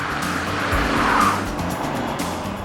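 Ferrari sports car driving fast with tires squealing, a loud, close engine roar and a skidding screech rising in the middle before easing off.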